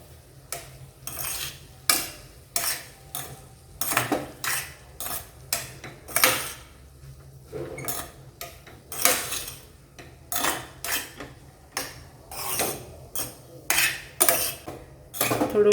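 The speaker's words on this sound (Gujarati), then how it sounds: "બરાબર મિક્સ કરી દેવાનું છે." A metal spoon mixing Chinese veg fried rice in a pot makes repeated scraping clinks and knocks in an irregular rhythm, close and clear with no talking.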